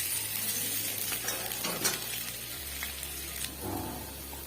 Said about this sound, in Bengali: এবার আলুগুলো সব ছেড়ে দেব তেলে। ভালো করে ভেজে নেব আলুগুলো।